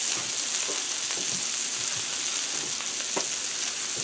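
Smash burgers frying on a Blackstone griddle make a steady, even sizzle with a few soft pops, close and alone.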